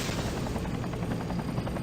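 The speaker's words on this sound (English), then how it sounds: "here comes those helicopters again." Helicopters approach in the MechWarrior 3 video game, a steady rhythmic rotor chop with dense low rumble, loud and continuous with no voices.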